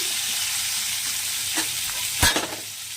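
Pointed gourd (potol) fries in hot oil with a constant close sizzle, broken by a sharp louder burst of spattering and a brief clatter near the end. No one speaks.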